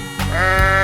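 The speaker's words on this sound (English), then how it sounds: "Sheep." A sheep in a 3D animal slide game gives one short, loud bleat with a wavering pitch.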